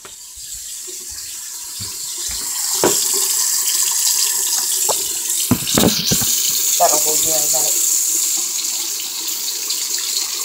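A bathroom tap runs steadily while the water warms before hair washing, a continuous hiss and splash at close range with a few clatters of objects and a person talking over it.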